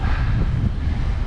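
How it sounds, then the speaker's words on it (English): Strong wind gusting through a town center among buildings on Dauphin Island, a brief rough blustery rush buffeting the microphone, loud and close, with no voices. "It's still very windy"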